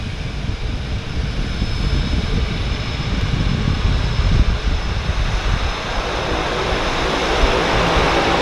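A de Havilland Turbo Beaver floatplane at a downtown harbour airport, its turbine and propeller making a loud, steady roar with a low rumbling drone that holds throughout.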